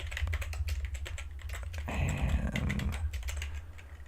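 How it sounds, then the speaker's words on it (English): Rapid clattering keystrokes on a computer keyboard, typed close and fairly loud in an indoor setting, with a brief denser burst of rustling noise in the middle and no talking. "Oh, sorry if the typing's loud."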